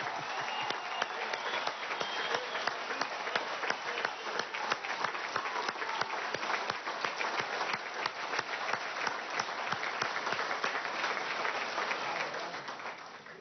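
Sustained, thick applause from a big crowd of education workers honoring Aristóbulo Istúriz, a continuous wash of many hands clapping with crowd noise beneath, holding steady and fading slightly at the end.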